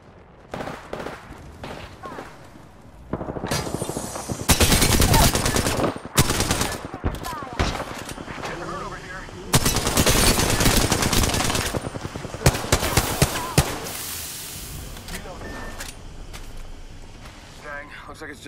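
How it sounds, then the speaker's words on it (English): Gunfire in Apex Legends: long bursts of rapid automatic fire in several loud clusters, separated by brief gaps of quieter action and scattered single shots. "Getting shot at!"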